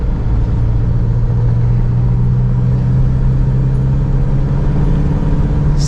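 Cummins 2.8 diesel truck engine pulling steadily in fourth gear off-road, a loud, continuous, deep droning rumble heard from close inside the vehicle throughout.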